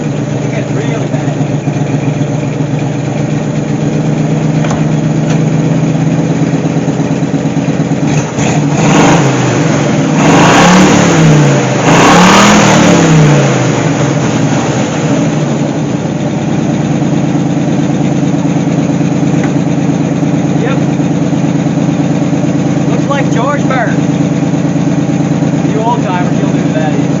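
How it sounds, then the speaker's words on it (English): Smoking AMC Gremlin engine idling roughly, then revved up in a loud surge that peaks and falls back to a steady idle, heard close with talk over parts of it. "when we rev her up, it gets really bad"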